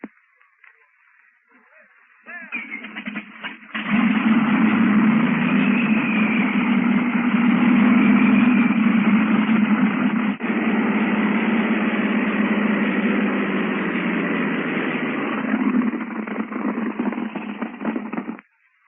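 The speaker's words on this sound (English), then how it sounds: "here's the sound of the famous Focke-Wulf" A Focke-Wulf 190 fighter's piston engine starts up and settles into a steady, rumbling idle with a muffled, radio-like quality, running loud for over ten seconds.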